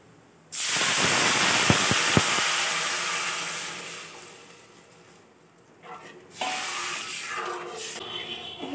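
Water poured into a pan of fried lentils bursts into a loud, sustained sizzling hiss of steam, settling down, then briefly flaring again near the end, with no talking.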